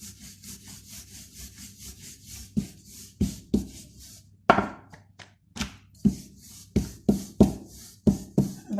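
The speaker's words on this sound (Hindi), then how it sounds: "ये देखें, अब मैं इसे बेलूंगी" A rolling pin works shakarpara dough into a thick sheet, giving a steady series of close, soft rubbing thumps in an even back-and-forth rhythm, with no talking.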